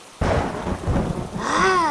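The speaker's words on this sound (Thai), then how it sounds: "วันนั้นตอนดึกมีฝนตกหนัก" Heavy rain pours steadily with a low rumble of thunder at night, loud and continuous, with a rising rolling tone near the end.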